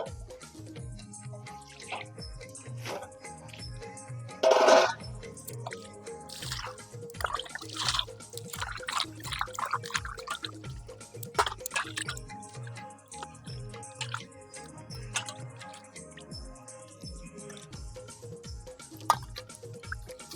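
Cleaned prawns are washed in water, with soft irregular drips, splashes and squishy handling close by, quiet and without talk.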